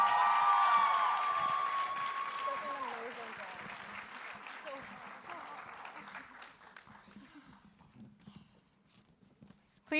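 Audience applause at a Brandeis Mela 2021 student cultural show, honoring the SASA 2020 presidents: a dense wash of many hands clapping that starts full and gradually thins and fades over several seconds, with a steady tone briefly present at the start.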